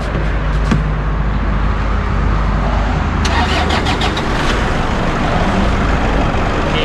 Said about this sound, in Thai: ฟังเสียงเครื่องยนต์นีครับ